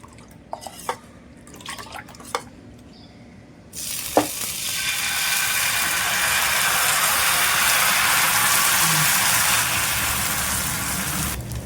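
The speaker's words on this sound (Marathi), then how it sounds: "तेल लावल्यानंतर आपण लगेचच असं बघा हे मिश्रण असं ढवळून त्यावर टाकायचं आहे" Batter for a soft white fasting-day ghavan poured onto an oiled hot pan, a few clinks and drips, then a loud steady sizzle that swells and holds for several seconds.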